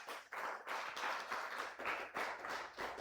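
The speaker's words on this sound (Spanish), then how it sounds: "da un fuerte aplauso al Señor" A church congregation claps loudly for the Lord during a Spanish-language service, with several surging bursts of clapping in a steady run.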